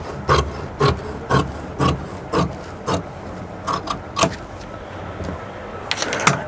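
Scissors snip through fabric along marked lines while cutting out a women's salwar pant, a series of sharp, evenly spaced close cuts followed by a quicker cluster at the end.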